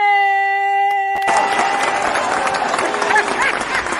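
An audience breaks into applause for the guest Micheline Bowman, coming in abruptly after a sustained tonal chord and continuing as a dense, steady wash of clapping with crowd chatter mixed in.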